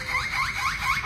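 A warbling, repeating electronic alarm-like tone cycles quickly several times, a parrot imitating a car alarm.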